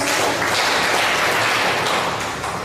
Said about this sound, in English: The Ghanaian community, Rahdiya Chapter, a round of applause.